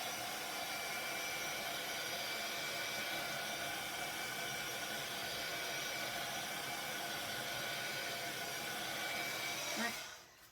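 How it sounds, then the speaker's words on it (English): A heat gun blows constantly as it dries craft paint, a loud steady rushing hiss held close for about ten seconds before cutting off abruptly near the end. "now I'm just gonna use my heat gun again real quick"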